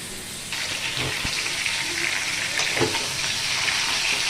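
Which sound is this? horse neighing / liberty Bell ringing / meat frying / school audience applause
meat frying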